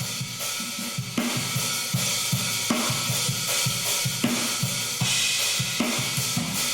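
Heavily compressed rock drum mix driven hard through a Distressor, with punchy, pumping kicks and snares in a steady groove under dense, bright cymbal wash; loud and continuous with no voices.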